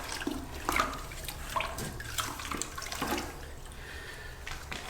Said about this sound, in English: So we grab our bucket with water that I always have on hand and my sponge, and I make sure I wash that up.